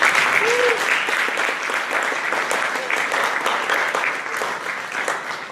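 A school award ceremony audience applauds steadily, a dense sustained clapping that fills the hall and slowly fades slightly toward the end.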